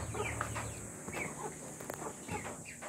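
Five-month-old breeder chickens in a farm cage cluck and call softly nearby in short, scattered bursts over a faint background hum.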